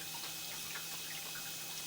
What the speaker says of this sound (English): as the water runs, there is water coming right through that spot